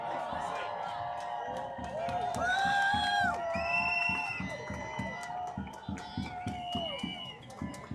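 A protest crowd marches through a Chicago street at a No Kings rally, cheering and whooping close by, with rhythmic pulses and voices throughout.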